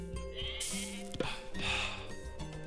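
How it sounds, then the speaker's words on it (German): Two goats bleat in Age of Mythology, short wavering calls at moderate volume over a quiet game backdrop. "Ach, da sind noch zwei Ziegen."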